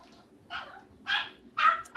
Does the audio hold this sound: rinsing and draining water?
no